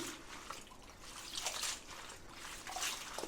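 Leafy greens being soaked and washed by hand in a basin of water, with steady close trickling, dripping and light splashing throughout.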